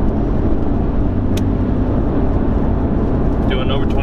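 A Ford Mustang cruises on a highway at 70 mph around 1800 RPM, a steady low road and engine drone with tire rumble filling the cabin, and a voice is heard briefly near the end.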